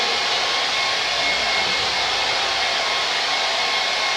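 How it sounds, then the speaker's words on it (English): A hair dryer blasts air over wet acrylic paint on a portrait, a loud, steady, broadband roar held close and unbroken throughout. "blow it about with your hair dryer, if you've got a hair dryer."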